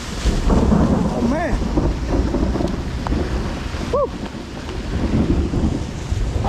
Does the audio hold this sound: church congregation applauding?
no